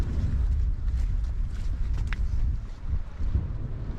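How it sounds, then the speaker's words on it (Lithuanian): Strong gusting wind buffets the microphone on a stony seaside path along the water, a steady low roar with rising and falling gusts throughout, no talking. "Labai vėjuota šioje vietoje."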